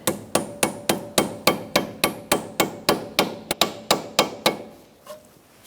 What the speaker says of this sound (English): And you can just tap it in the rest of the way.